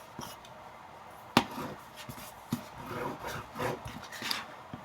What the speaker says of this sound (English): And burnish that top edge.